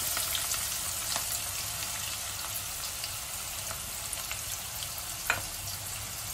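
Onions frying in hot oil with cinnamon, dried red chilies and black pepper for a brinjal masala, giving a steady, close sizzle that continues throughout with a few brief crackles.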